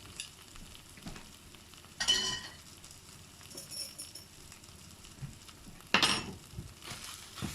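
Plant-based burrito filling frying in a pan, with a steady low sizzle and two sharp bursts of stirring and scraping, close and alone without talk.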